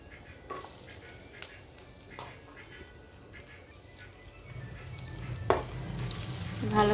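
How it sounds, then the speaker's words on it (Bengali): Chopped onion frying in a pan for a Bengali-style potato and eggplant dish makes a low, steady sizzle with faint scraping, growing louder and fuller toward the end; no one speaks. "এবার দিয়ে দেবো পেঁয়াজের কুচি"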